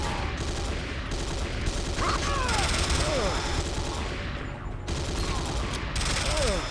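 Turret gunfire in the video game Command & Conquer Renegade: dense, continuous rapid bursts of shots with mechanical clatter and whistling projectiles, loud and sustained throughout.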